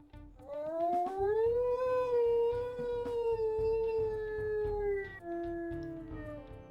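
A single long video game wolf howl rises to a mid pitch, holds steady with little variation, then dips near the end; clear and close, no talk.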